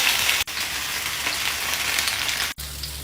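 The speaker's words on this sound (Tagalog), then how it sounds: "And now, salang na natin itong boneless bangus." Boneless milkfish (bangus) sizzles steadily in hot oil in a pan, a dense crackling hiss that runs nearly unbroken with two brief cuts.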